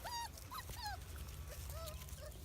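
Tiny puppies whimper and yip outdoors in a string of short, high, rising cries with brief gaps between them, close to the listener, over a steady low background rumble.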